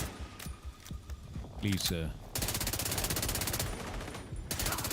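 Automated turrets in Division 2 open up with rapid sustained bursts of machine-gun fire, loud and close, mixed with separate heavier shots and a brief spoken voice.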